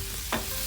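A crushed chickpea mixture fries in oil in a pan while being stirred, giving one short, close scraping burst against a low, steady sizzle.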